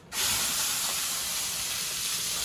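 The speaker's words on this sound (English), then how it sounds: "carefully place the lamb on the cast iron skillet" Rack of lamb laid onto a hot cast iron skillet to sear, bursting into a loud, sudden hiss that holds as a steady close sizzle.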